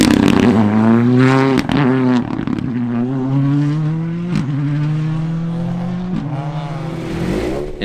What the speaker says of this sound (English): Gary Lyons gets off to a tentative start in the Lyons Road Transport Fiesta Rally 2.